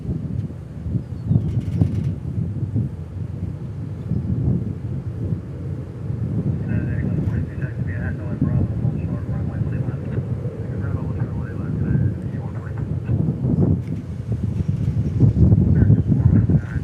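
A SkyWest airliner landing on runway 18 right at DFW Airport, a distant sustained jet roar rising toward the end, overlaid by wind buffeting the microphone and someone talking.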